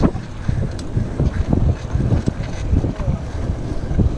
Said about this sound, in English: Mike, your hair is waving in the wind like a rock star